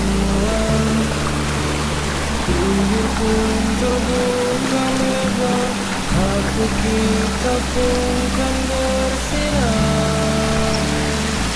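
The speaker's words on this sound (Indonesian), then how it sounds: "Kita menyusuri sungai kecil yang di atas tadi ya, ini ya." A small river stream flows steadily near the Curug Klenting Kuning waterfall, a loud continuous rushing wash with broadband water noise, constant throughout, with a low tonal hum underneath.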